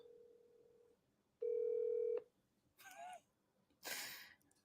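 A steady electronic tone cuts off, followed by a louder buzzing ring tone, then two short bursts of noisy chatter-like sound after it.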